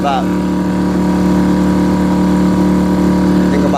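A Suzuki 2.5hp outboard motor pushes an Intex Mariner 4 inflatable boat along below half throttle, a steady, close, buzzing drone with a constant pitch throughout.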